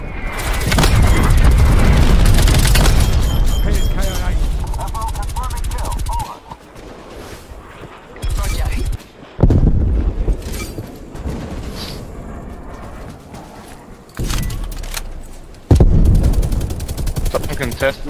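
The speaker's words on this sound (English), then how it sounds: "Artillery coming out." Call of Duty Cold War gameplay with loud artillery fire and gunfire: heavy booms and bursts of shots come in intermittent waves, separated by quieter gaps, with players' voices in places.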